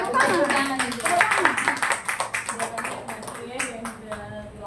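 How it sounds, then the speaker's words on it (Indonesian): A small group claps hands together in a brisk, uneven patter during an Indonesian mentoring session, with people talking over and around the clapping. "tepuk tangan"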